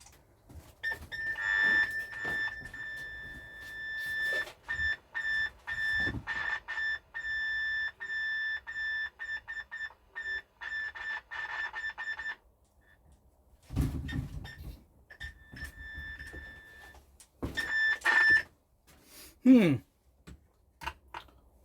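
Repeated electronic call beeps from a vintage DFR-MRK 1 walkie-talkie, steady and tonal, sounding in bursts with clicks and handling noises between them, then a pause and more short beeps.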